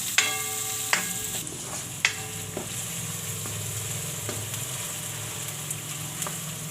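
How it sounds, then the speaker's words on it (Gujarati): Onions fry in a pan for a Gujarati chickpea-flour gundi curry, giving a steady, close broadband sizzle with a few sharp ticks and clinks spaced through it. "ડુંગળી નાખી દેશું. તો ડુંગળીને આપણે સેજ લાલ જેવી થવા દઈશું."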